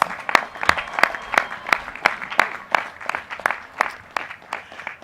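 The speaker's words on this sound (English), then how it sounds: "we deserve a round of applause" A smallish group at a university commencement ceremony claps steadily, with distinct individual claps in a loose, fairly even rhythm, moderately loud and nearby, with no voices.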